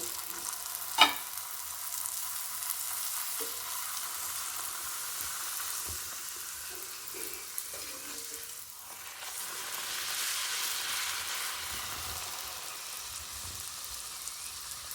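Puri deep-frying in hot oil in a home kitchen, a soft steady sizzle and bubbling throughout with a faint clink near the start, no talking.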